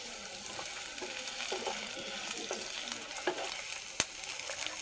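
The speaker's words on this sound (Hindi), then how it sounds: "तेल गर्म हो गया है तो इसमें हम प्याज को डाल देंगे, अदरक और लहसुन को भी हम साथ ही में डाल देंगे" Chopped onion, ginger and garlic sizzle and crackle steadily in hot oil in a pan, with occasional stirring scrapes and a sharp clink near the end.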